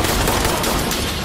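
Machine gun fire in Insurgency Sandstorm, a dense continuous burst of loud, close automatic shots blurring together over about a second.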